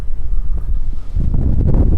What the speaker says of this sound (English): the wind's picked up substantially as you get higher up